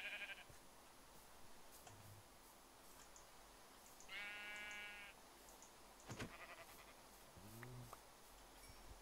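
Sheep bleating in the video game Minecraft, a few short separate bleats over faint game ambience, fairly quiet and alone without talk.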